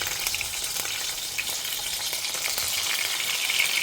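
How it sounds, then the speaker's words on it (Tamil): Thin slices of brinjal shallow frying in hot oil, a steady dense crackling sizzle with scattered pops, close and loud, continuing alone throughout. "அதில் வந்து இதை ஷாலோ ஃப்ரை பண்ணி எடுத்துக்கலாம்"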